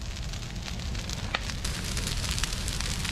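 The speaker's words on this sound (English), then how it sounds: "We got the fire going." An outdoor fire burns steadily with a constant crackle and sizzle, sharp pops breaking through now and then, close and moderately loud, with no voices.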